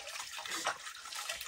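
Water running steadily as someone bathes in a toilet of an underground home, a continuous close splash and hiss with a brief louder slosh and no talking.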